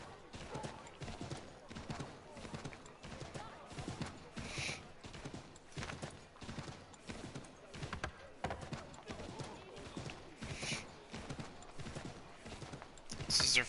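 Horse hooves clip-clop in Assassin's Creed 3 Remaster as a mount trots through a colonial city, a steady rapid rhythm of hoof strikes running the whole time, with occasional louder accents and faint background game sounds.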